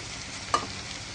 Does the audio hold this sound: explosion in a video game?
no